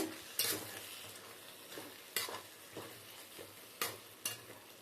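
Brinjal curry masala frying in a pan, heard as a quiet, low sizzle broken by sharp, regular spatula scrapes about every second or so, with no voices.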